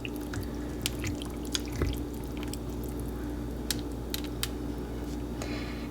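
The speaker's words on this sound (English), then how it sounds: "Take your debubbling tool, release your air bubbles, and it will disperse your stock for you throughout your other ingredients" A debubbling tool works through a tightly packed jar of home-canned chicken curry, releasing air bubbles in small wet drips and squishes over a steady low hum, with no speech.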